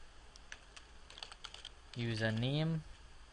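Quick light keystrokes on a computer keyboard while a network profile path is entered, a short run of soft clicks near the mic, then a voice speaks over it.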